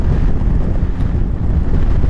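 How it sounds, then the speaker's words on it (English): Blustery spring wind buffets the microphone in heavy, low rumbling gusts, loud and continuous with no other sound on top. "it is a little bit windy, as in blustery"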